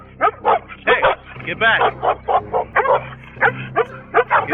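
Several dogs bark and yip in short repeated bursts close by while a police officer speaks over them, calling out to the animals.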